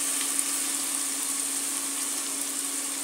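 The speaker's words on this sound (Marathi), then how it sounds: "चांगली खमंग अशी हिला परतून घ्यायची तेलामध्ये" Ginger garlic paste frying in hot oil, a steady hiss with a constant faint hum, close and unbroken for a few seconds.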